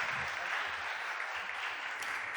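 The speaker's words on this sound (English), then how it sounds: "please, can we give this sheriff a round of applause" Applause rises at a Philadelphia City Council meeting, a soft, steady wash of many hands clapping continuously at moderate distance.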